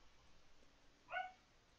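A single short, fairly faint bark from a purple dog in the Slender Tubbies game, a Slender Man and Teletubbies horror game, heard once near the middle over quiet background.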